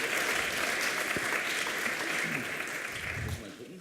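An audience at a blockchain hackathon in Stuttgart applauds after a team's final pitch, giving a few seconds of dense, steady clapping that fades slightly toward the end.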